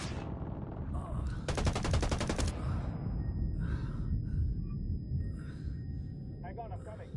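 Gunfire in the tactical shooter Ghost Recon Wildlands comes as a dense automatic burst of about a second, with fainter shots and rumbling action around it, all heard under voices talking throughout.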